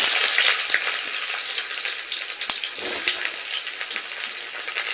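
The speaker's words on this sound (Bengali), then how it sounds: "তো প্রথমেই তেলে দিয়ে দেব পেঁয়াজ কুচি।" Chopped onions fry in mustard oil in a kadai for a thin Bengali-style country chicken curry, giving a loud, continuous crackling sizzle with scattered pops and stirring scrapes, no voices.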